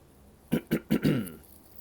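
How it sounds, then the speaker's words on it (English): A woman's coughs: four quick, fairly loud bursts in close succession, the last one longer and rougher, with nothing else around them. "I do apologize for the coughs."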